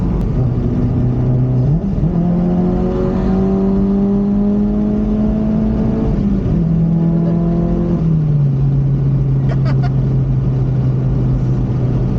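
A car engine revs up hard and pulls through rising gears, like a street race: a loud, close, droning note climbs, drops at each shift, then climbs again, steady throughout.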